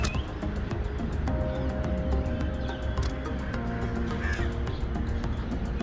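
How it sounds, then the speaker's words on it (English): Crows caw repeatedly against a steady outdoor background, several harsh calls overlapping at moderate distance with no talking. "You see a lot of crows here, isn't it?"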